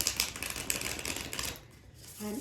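Rapid papery riffling and soft clicks of shuffled tarot cards, close and continuous, then a quieter pause and a brief low hum at the end.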